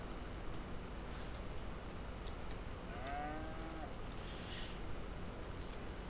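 Cattle in Farming Simulator 22 let out a couple of drawn-out, wavering moos in the middle stretch, heard over a steady bed of game ambience and background noise.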